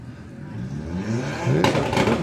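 Volkswagen Passat and Audi TT drag racing side by side at Santa Pod, engines droning and rising as they accelerate, with a sharper, louder roar surging in near the end; commentary voices run underneath.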